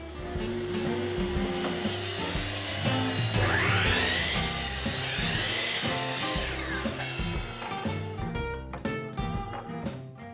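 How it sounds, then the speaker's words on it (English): A miter saw cuts a panel for the bottom of a concrete countertop mold, giving a loud, sustained whirring and grinding roar with a rising and falling whine partway through, close by and without speech. "traces the outline, then cuts the mold bottom to size. The laser on this miter saw makes it easy to align the cut."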